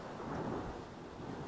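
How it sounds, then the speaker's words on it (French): Thunder from a nearby lightning strike in a summer thunderstorm rumbles as a continuous broad roar, fairly loud and with no voices. "Alors, l'éclair, il est passé comme ça direct. C'est pas loin."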